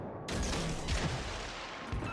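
Naval cannon fire from the Belfast cruiser in World of Warships: Legends, a dense rumbling volley starting abruptly with a second boom near the end, loud and close.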